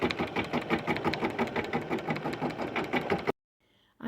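A sewing machine stitches a fabric patch in place with rapid, steady mechanical chatter at close range, running continuously before cutting off abruptly into near silence.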